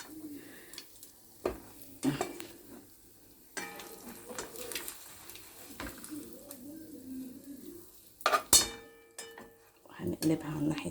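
Toast sizzling in a frying pan in a home kitchen, with scraping and clattering as a utensil flips it partway through, under someone talking.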